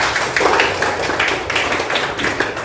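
A class of students claps their hands together in a quick, rhythmic pattern of repeated bursts, close and fairly loud.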